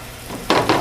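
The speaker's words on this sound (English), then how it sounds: "So I'm going to let this fry up and get kind of crispy." Fish fries in hot oil in a wok for a black bean stir fry, with a low crackle building into two quick, bright bursts of sizzling.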